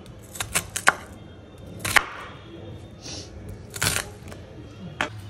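A knife cutting food into long slices on a board, a handful of sharp, close chops in uneven clusters, with brief pauses between strokes.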